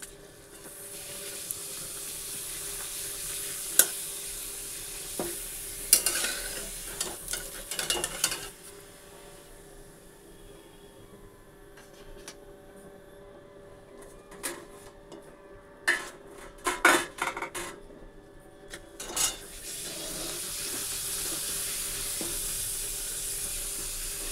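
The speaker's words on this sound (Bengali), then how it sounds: "ওকে পাঁপড় ভেজে দেই" Papad frying in a pan gives a soft, steady sizzle, broken by bursts of crackling and the occasional sharp clink of a utensil against the pan.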